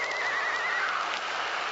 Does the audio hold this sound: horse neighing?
yes